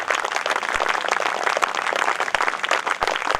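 Audience applause at a Hindi comedy poetry gathering (hasya kavi sammelan) in Yara Township, a steady dense clapping from a seated crowd with no voices over it.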